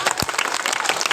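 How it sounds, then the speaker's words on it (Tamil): Students clapping at a school prize ceremony during a Women's Day celebration, a brief burst of dense crowd applause with many hands at once, fairly loud and close. "மாணவர்கள் கைத்தட்ட தெரியாதா?"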